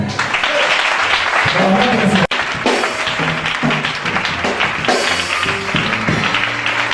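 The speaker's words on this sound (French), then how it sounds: "Acclame chacun" A church congregation applauds loudly and continuously, with dense clapping mixed with cheering voices and a brief sharp break partway through.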